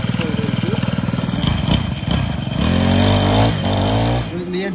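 Honda UMK425L petrol line trimmer engine being pull-started: rapid ratcheting cord pulls, then the small four-stroke engine catches and runs at a steady, loud idle close by, with a person speaking over it.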